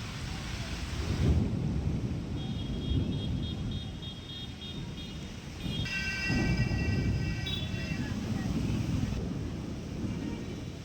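Steady heavy rain pours down with deep rolling thunder rumbling through it in Amravati, and faint tonal whines briefly rise above the downpour.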